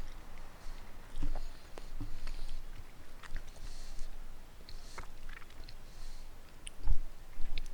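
Someone munches food close to a microphone while streaming; soft, irregular wet clicks and crunchy bites repeat steadily over a quiet background, with a few sharper smacks near the end.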